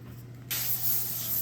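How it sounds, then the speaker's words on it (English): A steady hiss of cooking spray starts abruptly and continues, close and fairly loud, over a low background hum. "now you're going to spray your pan over here"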